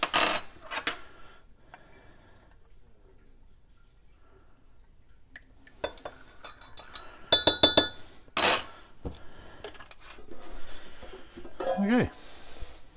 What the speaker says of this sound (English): So we'll mix our calcium chloride into the milk.